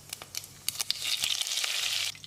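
Curry leaves crackling and sizzling in hot coconut oil in a pressure cooker, a soft close spatter of pops with a brief louder hiss in the middle, no talking.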